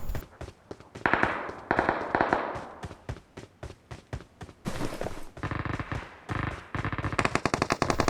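Rapid automatic gunfire from a PUBG Mobile battle on the Rondo map, near and loud in repeated bursts with short pauses, later joined by sharper cracking shots.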